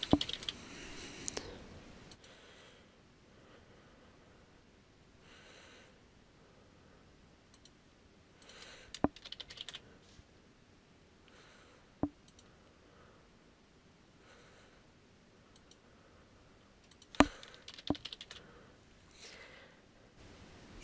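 Computer keyboard typing while login security answers are entered, heard as faint scattered key taps with a few sharper clicks spread across a quiet background, no talk.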